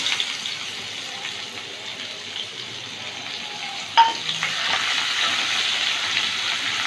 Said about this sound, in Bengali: ফোড়নটা একটু ভেজে নিলাম একটা পেঁয়াজ কুচি দিচ্ছি